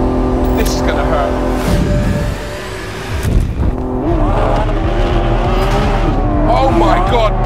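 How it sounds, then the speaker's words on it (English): A Lamborghini Aventador SVJ launches hard under launch control with stability control off, its V12 roaring loud and close as revs climb through quick gear changes, the engine note rising and swelling, with a voice speaking over it. "Right, launch control, ESC off, Corsa, thrust mode. This is gonna hurt."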